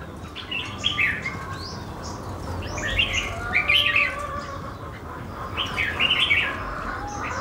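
A songbird chirps in short bright bursts, three or four calls spread out over a steady outdoor background hum, at a backyard bird-keeping corner.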